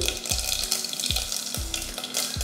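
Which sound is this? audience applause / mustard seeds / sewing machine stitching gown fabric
mustard seeds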